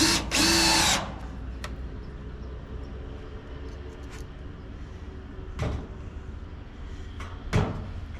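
A power drill drives screws through metal brackets into the boards of a DIY raised garden bed, one loud, steady burst of about a second near the start, followed by quieter knocks and handling of the wood.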